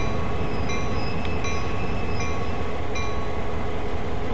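A GP38-2 diesel locomotive running light in Train Sim World, slowing into a head shunt on its independent brake, gives a steady loud rumble with faint high brake hiss and a couple of brief clanks.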